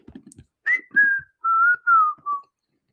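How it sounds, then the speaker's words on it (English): Five sustained whistled notes in a gently falling sequence, clear and fairly close, after a few soft low taps; no talking. "You don't know how to whistle"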